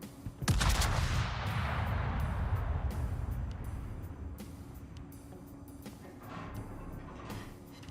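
Gunfire in a video game: a sharp loud shot, then a sustained roar of rumbling fire and explosions with occasional crackling reports trailing off.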